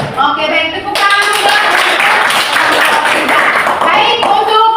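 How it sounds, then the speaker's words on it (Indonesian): A classroom applauds after a group presentation, with a burst of many hands clapping rapidly and loudly for several seconds and voices mixing in at the start and end. "Oke, baik, tepuk tangan."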